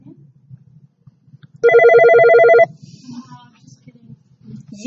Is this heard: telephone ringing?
yes